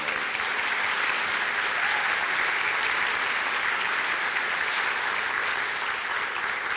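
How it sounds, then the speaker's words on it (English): Dense, even applause from a conference audience at a leadership exchange session in Washington DC, loud and continuous throughout with no voices over it. "could we please give another round of applause for Vincent?"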